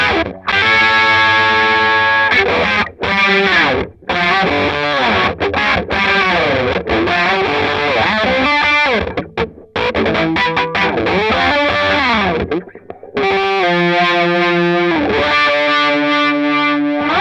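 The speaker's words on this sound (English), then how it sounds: "I've got a Dunlop Crybaby Mini and just put it before the fuzz" Electric guitar through a Dunlop Crybaby Mini wah placed before a Dunlop Mini Fuzz Face, playing a loud, gritty riff with vowel-like tone sweeps and a few short pauses.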